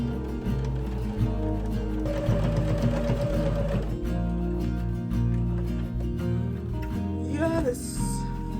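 A sewing machine stitches a twice-folded dress hem with a steady, continuous mechanical whir that runs throughout, close and fairly loud, with a brief higher whine near the end and no talking.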